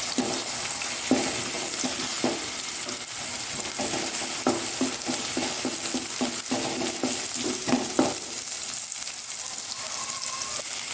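Egg and chicken mixture stirred in a hot pan, with a continuous sizzle broken by repeated scraping and clinking strokes of the spoon at an uneven rhythm, close by and with no speech.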